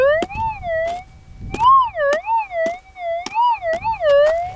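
A Garrett Axiom metal detector gives a warbling, rising and falling electronic tone over a target on bedrock, loud and continuous with faint clicks and scraping beneath.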